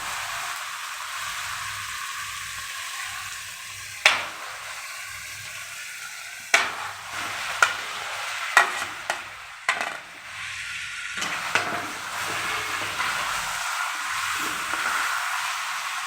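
Chicken meat fries in a pan with tomatoes and spices, a steady soft sizzle broken by several sharp knocks and scrapes of a spoon stirring against the pan.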